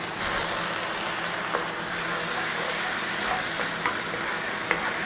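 Beef mince simmering in a pan with beef gravy stock, giving a steady close sizzle and bubbling with occasional stirring clicks, no talking.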